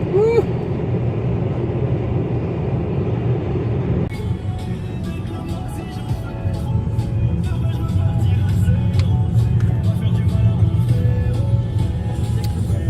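Steady low road rumble of a car driving on the highway, heard from inside the cabin, continuous and fairly loud, with faint clicks and rattles in the upper range later on.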